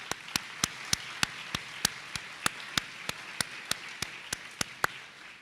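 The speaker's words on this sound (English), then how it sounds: "Give yourselves a big round of applause." Graduates clap at a graduation ceremony, steady, evenly spaced sharp claps in a unison rhythm for several seconds, close and crisp, with no talking over them.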